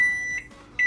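A microwave oven timer beeps when done, two loud steady electronic tones, one long at the start and another at the end, with a quiet hum between them and no talk.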